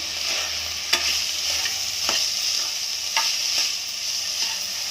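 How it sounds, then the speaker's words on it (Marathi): Green beans cooked as a vegetable dish crackle softly in a pan as a spatula stirs them, with a steady low sizzle and a few distinct scraping strokes, close and without speech. "तर आपली बीन्स आता तयार आहे थोडंसं हलवून घेऊया"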